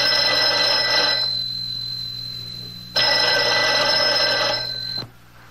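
An old-fashioned telephone bell rings in two long bursts separated by a pause, loud and close, with a low hum underneath and no talking.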